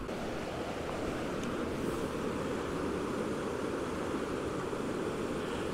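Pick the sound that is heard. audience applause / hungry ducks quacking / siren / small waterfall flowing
small waterfall flowing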